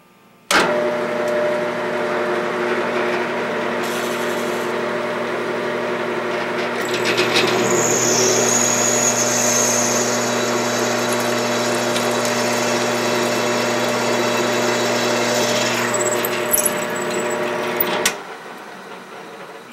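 A machine taps stainless steel using synthetic cutting oil, starting with a sharp click into a steady motor whine, then a louder, denser cutting drone partway through, before spinning down and stopping near the end.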